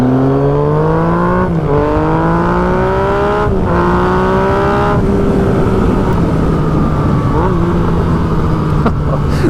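A 2016 Yamaha FZ-09 motorcycle engine runs loud and close, its revs stepping down repeatedly through a series of downshifts with a steady droning exhaust note between each drop.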